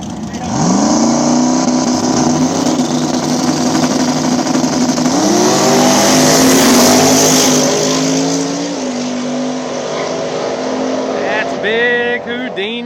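Small-tire drag race cars tear down a backside street strip in Columbus, Ohio, their loud engines roaring and revving through rising gear pulls, with a second high-pitched pass fading in near the end.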